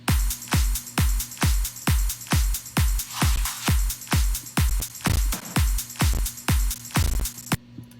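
A full electronic drum loop runs for about eight seconds, a steady four-on-the-floor pattern of punchy kicks with claps and bright hi-hat shimmer, loud and close, ending with a brief tail and no voices.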